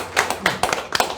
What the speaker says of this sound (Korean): 여러분 박수 한번 좀